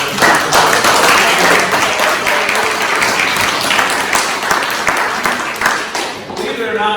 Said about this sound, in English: so if we can give Jamie a round of applause